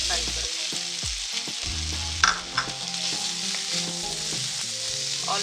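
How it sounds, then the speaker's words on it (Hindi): Sweet potato frying lightly in half a teaspoon of oil, with a close steady sizzle and repeated scraping and clinking stirs in the pan, a few sharper knocks near the middle. "उसमें हाफ टी स्पून ऑयल डालेंगे। और इसमें एक स्वीट पोटैटो को थोड़ा सा हल्का सा फ्राई करेंगे।"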